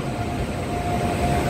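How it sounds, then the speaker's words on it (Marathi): Passenger train pulling into a station platform in India, a steady, loud rumbling roll of rail cars close by with a faint sustained squeal over it, continuous and without talk. "आले आता आपली ट्रेन"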